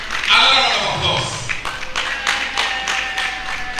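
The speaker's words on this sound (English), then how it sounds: "Another round of applause." A lecture hall audience clapping, a scattered irregular patter of hands that builds after a man's spoken line, continuing steadily at moderate volume with talk mixed in.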